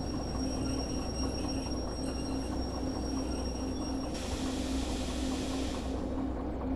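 A train rolls steadily in the railway game Derail Valley, a continuous loud rumble of wheels and engine with a sustained tonal hum and high whine running throughout.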